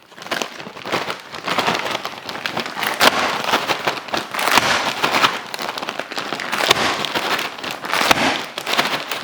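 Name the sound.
bag of frozen shredded potatoes thumped to break apart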